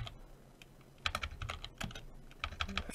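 Quick bursts of clicking keys on a computer keyboard, a word typed in short clustered runs with brief pauses, close and quiet.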